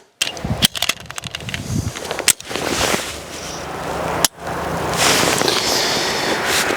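Pressing the magazine release on a budget Glock-clone pistol makes sharp, close metallic clicks, followed by the clatter and rustle of the magazine dropping free.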